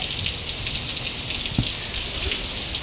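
Heavy rain pours down in Mysore, a dense, steady hiss of drops hitting the ground and nearby surfaces, loud and continuous with no voices.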